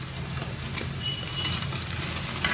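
Paneer cubes fry in a pan, browning to golden spots, with a continuous close sizzle and light crackling pops that swell slightly toward the end.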